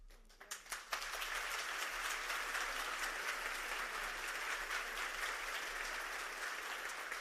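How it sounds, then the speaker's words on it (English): An audience bursts into applause, a few scattered claps first, then a full, steady wash of clapping that holds loud and even for several seconds before easing slightly. "And so please, another round of applause for Dr. Mallick"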